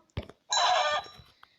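A single short chicken call, a brief squawk after a faint click, with nothing else around it.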